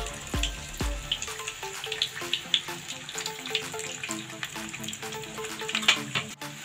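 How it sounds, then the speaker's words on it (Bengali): Potatoes frying in oil in a pan over low heat, heard as a busy, watery sizzle with scattered pops and clinks nearby and no talking. "হালকা আছে স্লো করে দেবেন, দিয়ে আলুগুলো ভেজে নেবেন।"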